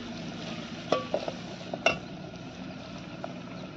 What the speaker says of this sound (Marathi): हळद टाकली की अशी हलवून घ्यायची।